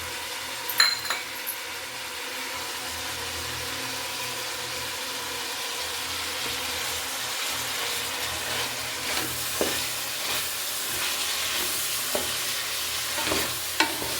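Tomato and coriander leaves stirred into hot tempering seasoning in a pan, a steady close sizzle of frying with scraping spoon strokes and occasional light clinks against the pan, no talk.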